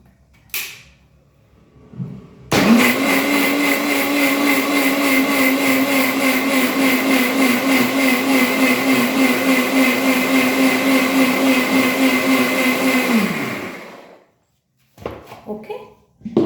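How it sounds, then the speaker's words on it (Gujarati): A kitchen mixer grinder grinds soaked lentils, rice and buttermilk into batter, starting abruptly with a loud steady motor whine and churning that runs for about eleven seconds before winding down and stopping, followed by brief handling clatter. "મેં અંદર દાળનો પલાળેલી દાળ, ચોખા અને છાશ નાખી છે, અને આપણે મિક્સરમાં પીસી લઈશું."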